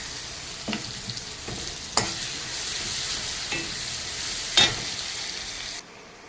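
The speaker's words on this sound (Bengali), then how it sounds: "আমার আদা কুচি পেঁয়াজ কুচিটা ভাজা হয়ে গেছে" Finely chopped ginger and onion fry in hot oil, a constant close sizzle punctuated by several crisp spatula scrapes and taps against the pan before it stops abruptly.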